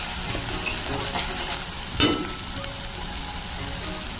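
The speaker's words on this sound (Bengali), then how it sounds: "আদা রসুন পেস্টটা আমি তেলের মধ্যে একটু হালকা কষে নিলাম" Ginger garlic paste sautéing in oil, a continuous close sizzle with light stirring scrapes and one sharper clatter of the spoon against the pan midway.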